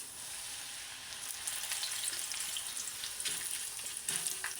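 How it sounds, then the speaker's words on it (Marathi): Poha chivda fries in hot oil with a continuous bright crackling hiss that swells slightly, close and steady with no voices. "आपण तेल कडत ठेवले, त्याच्यामध्ये आपण चिवडा तळून घेणार आहोत।"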